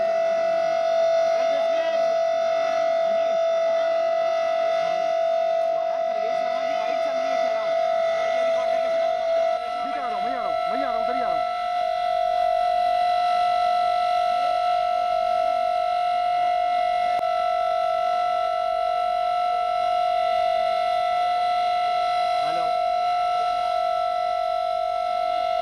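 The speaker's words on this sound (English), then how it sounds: "So those are the sirens going off as" Civil defense sirens sound during an air raid drill in Delhi, a steady sustained wail that holds for the whole stretch with faint background noise beneath it.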